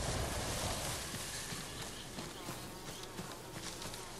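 Bees buzzing in the Ghost of Tsushima video game, a dense, steady hum that fills the scene at low volume, with faint clopping beneath and no talk.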